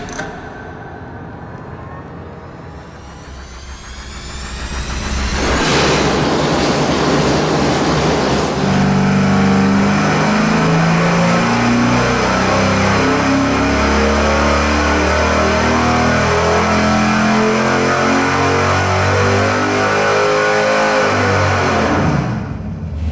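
Engine on a dyno during a stock versus stroked horsepower test, loud and close: a quiet idle, then a sharp start into a sustained wide-open pull with rising harmonics for about fifteen seconds before cutting off.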